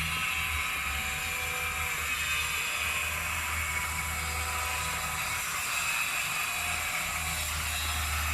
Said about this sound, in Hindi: इस टाइम जी आपको टाइल्स के ग्राइंडर की आवाज़ आ रही होगी क्योंकि लोग टाइलिंग का काम कर रहे हैं।